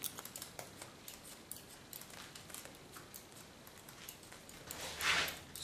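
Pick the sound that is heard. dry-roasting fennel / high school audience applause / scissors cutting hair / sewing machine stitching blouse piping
scissors cutting hair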